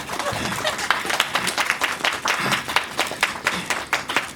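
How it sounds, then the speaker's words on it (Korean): Steady theater audience applause during a curtain call, many hands clapping at once, a dense continuous patter lasting the whole time, fairly close and loud. "박수 쳐도 돼"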